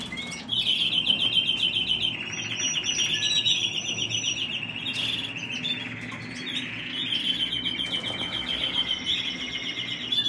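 Topaz parakeet hens and young birds in an indoor breeding room give a steady stream of high, rapid chirps and tweets, close and continuous, with occasional wing flutters.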